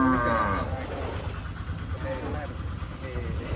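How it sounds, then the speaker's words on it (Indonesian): A large farm cow lets out a deep, loud moo at the start, trailing off into a low rumbling background with faint voices nearby. "Sapi unik ini."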